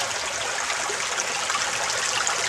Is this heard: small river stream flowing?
yes